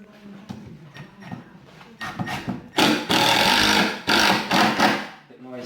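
An impact drill driving into a wall for a floating shelf, bursts of whirring and hammering that grow louder and longer, with short pauses between runs and some background voice.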